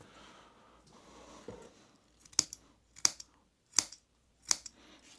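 Multitool scissors snip through paracord in four sharp, evenly spaced cuts close to the mic, after a quiet stretch of faint handling noise.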